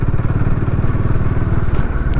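Motorbike ridden over a broken, potholed road near the India-Bangladesh border, a loud close engine drone with rattling and jolting thumps throughout.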